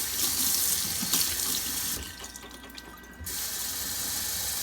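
Tap water runs steadily into a sink onto a sponge, a bright continuous splashing stream that dips and softens briefly midway before resuming at full flow.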